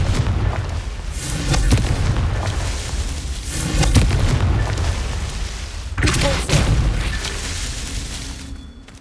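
Confringo spell blasts in Hogwarts Legacy, a series of loud deep booming explosions with rumbling low-end, several bursts overlapping across the span and a sharp crackling hit near the end.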